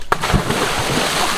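A pipe for a homemade electricity-free siphon pump is thrown into the intake water, making one quick splash near the start, followed by faint sloshing and rustling.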